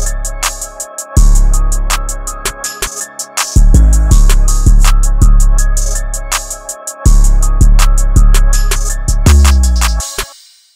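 Hard hip hop beat built in FL Studio, with punchy kicks, sharp snares, ticking hi-hats and extra percussion fills adding bounce, plus a sustained melodic layer, looping loud and steady with brief dropouts before the drums return.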